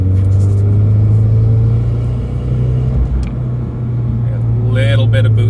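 A Nissan Silvia with a newly fitted motor drives at light boost, its engine giving a steady, loud low drone and rumble throughout, with brief higher whirring near the end.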